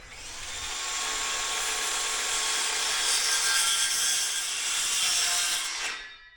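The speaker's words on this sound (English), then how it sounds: "One of the reasons why I like using a battery-powered skill saw versus an electric one" A battery-powered circular saw cuts through wood in one continuous, loud, high whining pass lasting several seconds, then stops abruptly.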